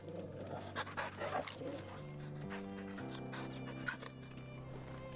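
A dog in the video game Final Fantasy XVI pants softly under sustained game music, its breathing faint and rhythmic for several seconds.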